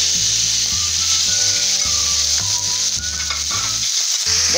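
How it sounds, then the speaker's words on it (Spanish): Seasoned beef searing in a very hot pan for lomo saltado, a loud, constant hissing sizzle with scraping and clattering from stirring throughout. "Dejemos que fría bien la carne."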